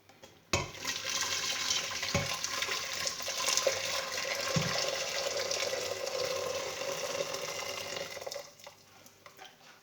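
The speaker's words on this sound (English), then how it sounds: "We need to add boiling water to our pot." Boiling water pours into a cooking pot while amahewu, a fermented maize drink, is being prepared: a steady splashing rush that starts abruptly and runs about eight seconds at close range, then stops, with no talking over it.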